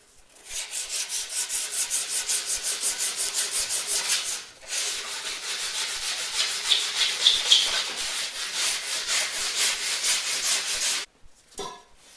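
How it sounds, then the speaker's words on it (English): A wooden tool handle rubbed down by hand with 100 grit sandpaper, a close, loud, rhythmic back-and-forth rasp of quick even strokes, pausing once and ending with a brief knock. "I'm going to switch back to the sandpaper just for demonstration purpose."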